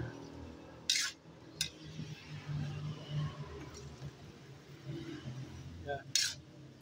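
Pork dish being stirred in a cooking pot, with scattered metallic clinks of a utensil against the pot over a low, steady kitchen background.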